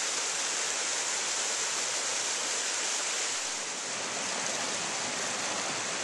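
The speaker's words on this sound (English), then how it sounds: "Here's the headwaters of Hunting Creek." Steady rushing water of a mountain stream at the headwaters of Hunting Creek in the Thunder Ridge Wilderness, a dense, continuous close-up roar with no pauses, loud and even throughout.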